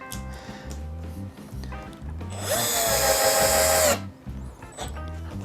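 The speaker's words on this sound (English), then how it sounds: "Grab our drill." A power drill drives a screw into pegboard, with a steady high whine that rises into a loud, strained grinding burst for about a second and a half, then stops, amid background music.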